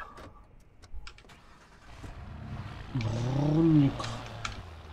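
A car engine in the video game Watch Dogs cranks and revs up, rising in pitch and loudness over a couple of seconds amid faint background clicks, with no talking.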